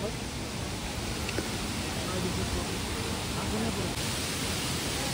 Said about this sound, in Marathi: ग्रामपंचायत सावडाव, हा सावडाव धबधबा. हे बघा वरून एवढं पाणी येतं.